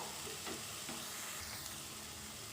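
A masala spice paste for prawn malaikari sizzles steadily in a hot pan while it is stirred and sautéed, a dense, even frying hiss with a few faint scrapes.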